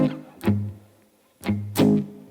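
An acoustic guitar plays a strumming pattern: a low E bass note, then a full chord strum, repeated twice, each ringing out clearly with no talking.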